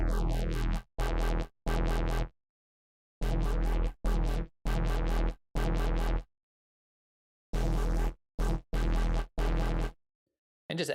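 A bassy synth in Ableton Live with a phaser effect plays in short repeated bursts. The sweeping tone stops and starts in rhythmic chunks, loud and up front, with no voices.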